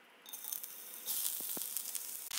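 Onions hitting a very hot oiled skillet burst into a faint hiss that swells into a steady, broad sizzle, with a couple of soft knocks from the pan.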